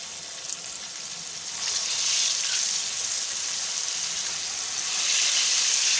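Fish pieces sizzling in hot oil in a home kitchen, a steady close hissing fry that swells louder after being dropped in, with no talk.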